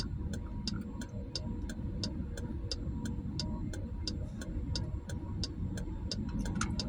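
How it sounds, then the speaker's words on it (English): A bus passes along a town street, its steady low engine rumble and road noise filling the scene, while a regular ticking, like a turn signal or crossing signal, repeats over it. "Hear that bus going there."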